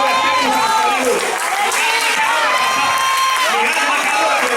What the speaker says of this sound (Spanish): Dale un aplauso al Padre, al Hijo y al Espíritu Santo.